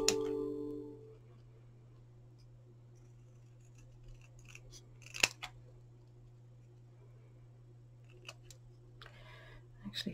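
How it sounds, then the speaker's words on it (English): Scissors trim a scrap of paper for a small fudge bar box. A few faint, sharp snips break an otherwise quiet stretch with a low background hum. "I'm just going to trim that off with my scissors."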